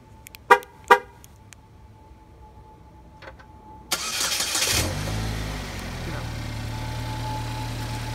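A car remote-started from its key fob with the alarm armed: two sharp alarm chirps and a short beep, then the engine cranks loudly and settles into a steady idle close by.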